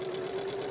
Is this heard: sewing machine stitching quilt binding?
yes